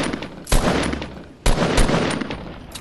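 Rapid gunfire in the video game Fortnite, with two loud bursts of shots followed by sustained crackling fire, close and dense throughout.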